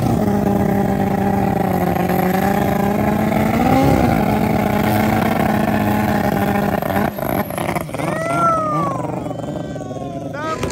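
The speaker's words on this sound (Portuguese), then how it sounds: "Moto Turbo versus moto aspirada." A turbocharged Suzuki Hayabusa sport bike roars at high speed in a top-speed street race, its loud sustained engine howl rising in pitch, then dropping abruptly as it passes, followed by quieter revving with crowd noise underneath.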